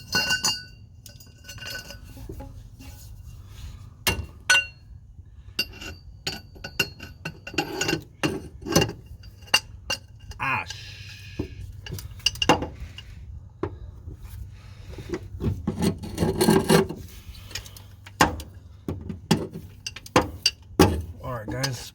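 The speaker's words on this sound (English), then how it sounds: "I'm gonna get this one with the breaker bar just to make it easier on myself." Metallic clinks, ratcheting and clanks of a breaker bar and tools working loose the clutch bolts on a 1986 4.6-swapped Foxbody Mustang, irregular and close, with someone talking over a low hum.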